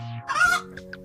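A rooster gives a short cluck and a few softer clucking notes over a faint steady hum, close and fairly quiet, recorded for sound analysis.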